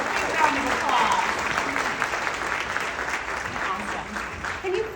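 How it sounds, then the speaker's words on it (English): A conference audience at a legal professionals' event gives a volunteer steady, dense applause, with voices and cheers mixed into the clapping throughout. "Please give her a big round of applause."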